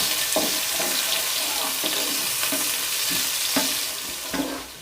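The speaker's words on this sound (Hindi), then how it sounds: "यहाँ पे ऑयल अच्छे से गर्म हो चुका है और अब हम इसके अंदर अपना प्याज ऐड कर देंगे" Onions and cumin frying in hot oil in a pan, a steady loud sizzle with rhythmic scraping strokes of a spoon stirring roughly every half second, close and continuous, no talking.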